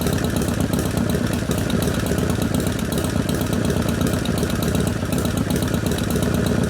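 A 1979 Harley-Davidson Shovelhead 80ci motorcycle engine idles loudly and close, with a steady, even lumpy rumble that holds unchanged throughout.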